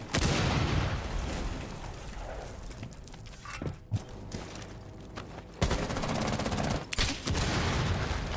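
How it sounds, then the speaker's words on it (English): Explosions and gunfire from Rainbow Six Siege during an esports finals match: loud, dense bursts of shots and blasts with sharp cracks, heavy and continuous throughout, with no voices. "I believe I just heard an explosion."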